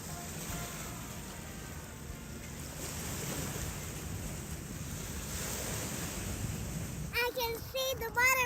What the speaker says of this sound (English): The breeze is blowing, I think probably 20 knots-ish as we're walking past the kind of the break over here.